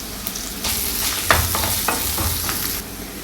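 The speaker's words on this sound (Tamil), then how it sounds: "ஒரு கொத்து கருவேப்பிலை சேர்த்துக்கலாங்க." A sprig of curry leaves hits hot oil in a pan with sautéed onions for a soya chunk gravy. A sharp, close sizzle bursts out and is stirred with quick scraping strokes for about two seconds before settling.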